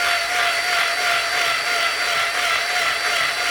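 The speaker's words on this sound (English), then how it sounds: "the only way I could get this keyboard apart was to drill out the stuck screw" Drill boring out a stuck screw from an aluminium keyboard, a continuous loud, close grinding whine with a steady high-pitched tone throughout, no pauses or voices.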